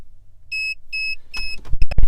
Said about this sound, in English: You heard the vehicle beep.